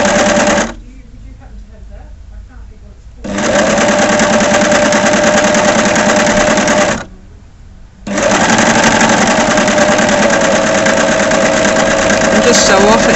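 Overlocker sewing machine stitching through fabric layers, a loud, close, buzzing whir in two long runs separated by quiet gaps where a voice talks softly, stopping and restarting abruptly.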